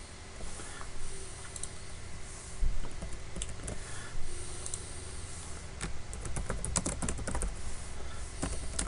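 Rapid typing rattles on a computer keyboard, a continuous stream of close, crisp key clicks with occasional louder strokes, heard alone without any talk.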